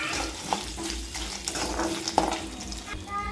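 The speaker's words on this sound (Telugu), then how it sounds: "వాటర్ కూడా వేసి వేపాలి." Water poured into a pan of lentils and peanuts frying for tamarind rice gives a faint, steady hiss and sizzle, with a few soft clinks and no talk.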